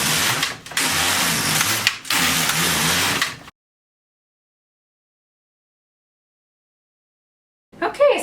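An LK150 knitting machine carriage knitting rows of shorts or pants: two loud, close, rushing passes of about three seconds in total with a short break between them, then silence and a brief scrape at the end.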